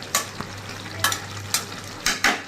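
Tengra fish curry being turned gently in a pan, a few separate scraping strokes of a spoon against the metal over a soft simmering hiss.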